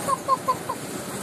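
A chicken clucks four short times in quick succession over faint background noise.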